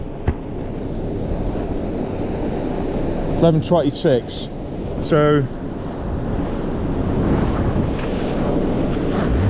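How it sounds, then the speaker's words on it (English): Ocean waves break and wash steadily onto a sandy Norfolk beach on an incoming tide, mixed with wind noise on the microphone, while someone talks briefly over the surf. "See, that's a bigger wave."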